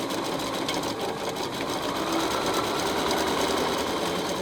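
Sewing machine stitching hot pink fabric onto a towel, a fast, steady mechanical whirring at close range, running continuously without pauses or talk.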